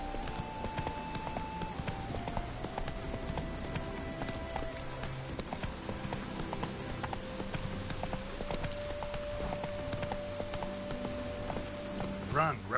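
Roach the horse gallops in The Witcher 3, a quick, even clip-clop of hooves running steadily under game music and ambient sound, with a brief louder burst at the end.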